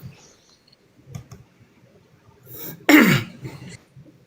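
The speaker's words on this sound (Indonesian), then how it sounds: "Maaf kalau agak Batuk Pak Pendeta ya, batuk ya." A sharp, loud cough bursts out after a few quiet throat noises and soft clicks, then fades back to near silence.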